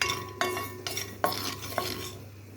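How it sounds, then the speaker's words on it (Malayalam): Black sesame seeds being roasted in a pan, stirred with several distinct scraping strokes against the metal over a faint background hum, with no talking. "എള്ളൊന്ന് വറുത്തെടുക്കാം."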